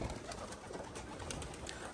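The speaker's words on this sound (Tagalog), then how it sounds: "So nandito yung mga ibon natin" Racing pigeons cooing inside a loft, a steady dense chorus of soft low coos layered with rustling, continuous and fairly near.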